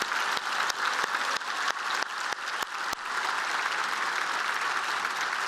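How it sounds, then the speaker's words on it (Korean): Applause from members of the National Assembly at a plenary session, welcoming a visiting World Expo inspection team in the gallery, rises as dense, sustained clapping that fills the whole stretch, with a few sharper claps standing out early on. "모두 박수로 환영해 주시면 고맙겠습니다"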